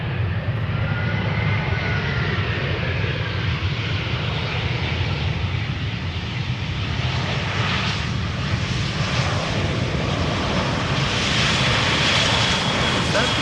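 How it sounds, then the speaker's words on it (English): An EasyJet Airbus A320 arriving from London Luton lands on Schiphol's Polderbaan in warm summer weather, its engines a loud, steady broadband roar that holds throughout, with faint wind noise and no speech over it. "This is EasyJet, arriving from London Luton, A320, flight"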